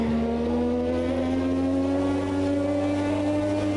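A Lotus 98T Formula 1 car's turbocharged engine pulls hard under boost, a loud, steady, close howl that climbs smoothly in pitch for several seconds without a break.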